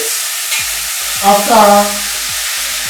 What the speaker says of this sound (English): frying all this a little